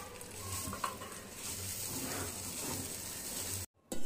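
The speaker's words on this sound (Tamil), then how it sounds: "ஒரு தேங்காய் ஃபுல்லாக அதே இதில் போட்டு நல்லா பிரட்டி விடலாம்" Chickpea sundal being stirred through a pan after a whole grated coconut is tipped over it, a steady scraping and gentle sizzle running close and continuous before cutting out abruptly near the end.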